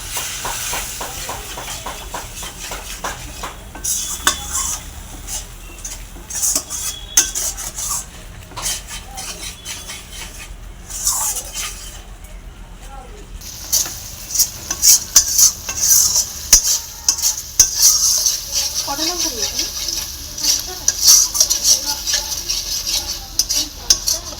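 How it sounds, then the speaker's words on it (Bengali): Mustard and poppy seed masala frying in a pan for pomfret curry, stirred with a utensil that makes repeated scraping, rasping strokes over a soft sizzle, irregular with brief pauses and busier toward the end. "এখানে যে জলটা দিয়েছিলাম অল্প পরিমাণে সেটা জলটা শুকিয়ে গেছে মশলাটা কষতে কষতে"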